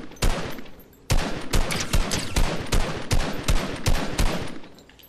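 Rapid bursts of gunfire crack out in Fortnite, a dozen sharp loud shots in an irregular rhythm with brief gaps, close and dominant.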